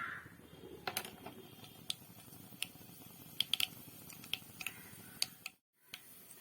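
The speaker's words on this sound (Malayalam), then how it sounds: "വെളിച്ചെണ്ണ ചൂടായി നമുക്ക് കടുകിടാം." Mustard seeds popping in hot coconut oil, sounding as scattered sharp ticks and crackles over a low steady hiss, with a few louder pops, fairly close.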